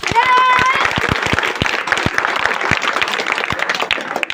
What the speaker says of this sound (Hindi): इस पे एक बार जोरदार तालियां हो जाए।